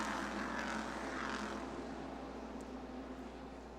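SK modified race cars roar around the track during the 2018 NAPA Spring Sizzler feature. The loud, sustained engine drone fills the clip and eases slightly over a few seconds.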